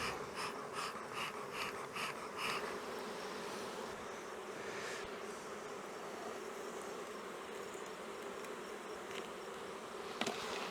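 Bees buzzing steadily around a syrup feeder in an outdoor apiary with working nucs, a continuous close insect drone that persists at even loudness for the whole stretch, with faint breeze in the background.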